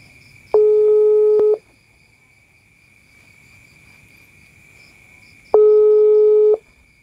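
Telephone call tones while dialing: two clear beeps about five seconds apart, each roughly a second long, over a faint steady background hum.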